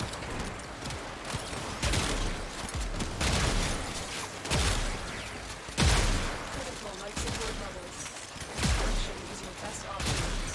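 Heavy weapon fire in Warframe, spaced booming shots about every one and a half to two seconds with clattering mechanisms between, amid game noise and occasional talk.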